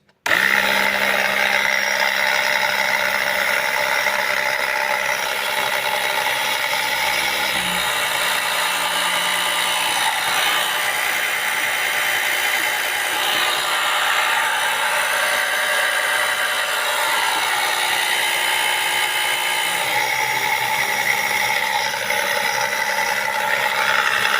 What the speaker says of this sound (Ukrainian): Я під'єднав зливну трубку і ось сюди її поставив. Я вмикаю наш насос.